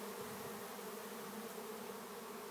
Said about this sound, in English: you can see all the bees that are in the area here